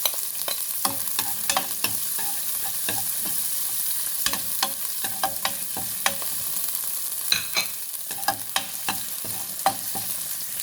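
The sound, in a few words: onions frying in a pan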